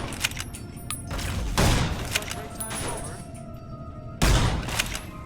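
Gunfire from shooting robots in Fallout New Vegas, heard as a few loud, sharp bursts spread across the clip over a steady game background, with speech-like sound underneath.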